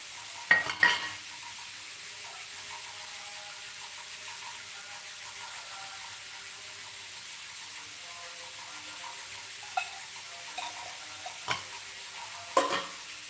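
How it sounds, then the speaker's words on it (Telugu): Oil heating in a pan and onions frying, heard as a steady low sizzle throughout, with a few sharp stirring or clattering knocks near the start and the end, no one talking. "ఆయిల్ వేసుకొని ఆ ఆయిల్లోని ఉల్లిపాయలు వేసేయాలి"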